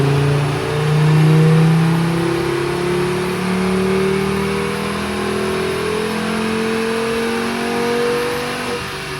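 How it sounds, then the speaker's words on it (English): A five-cylinder Volkswagen Beetle roars on a rolling road dyno, its engine note rising and sweeping through the revs in loud, sustained pulls with a throaty, warbling tone. "this 5-pot Beetle was definitely the best sounding car of the day"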